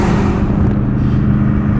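A BMW M8 Competition in automatic mode kicking down under hard acceleration, a loud, deep, continuous engine roar heard close up from inside the car, holding strong for a couple of seconds.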